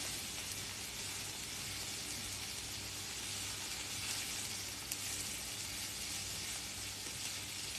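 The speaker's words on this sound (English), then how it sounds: "You can hear the sizzling." Steady, dense sizzling of a pork stir-fry in a hot pan, continuous and fairly loud throughout with no talking.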